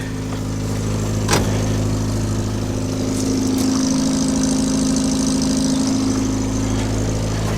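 A 1950s car engine, a Renault 4CV or Standard 8, idles steadily with a low, even rumble and a brief knock early on, close and loud with no talk over it.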